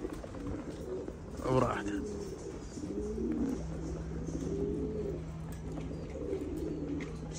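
Pigeons on a rooftop loft give repeated low throaty coos, near and moderately loud against a steady outdoor hum, while someone speaks briefly at times.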